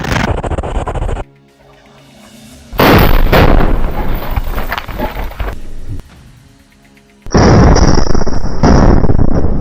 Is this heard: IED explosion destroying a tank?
yes